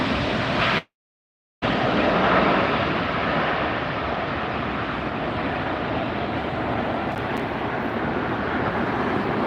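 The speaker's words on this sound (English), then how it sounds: "American just landing." American Airlines jet landing at LAX: a steady broadband roar of jet engines and rushing air, close and loud, holding from a brief dropout through to the end with no talk.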